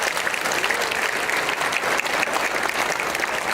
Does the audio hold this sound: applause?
yes